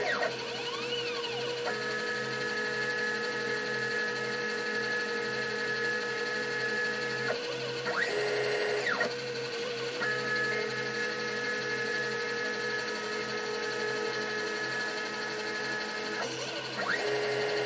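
A mini lathe turning aluminum at 700 RPM with a very thin cut gives a steady mechanical whine with sustained tonal hum, interrupted by brief pitch sweeps as the feed changes.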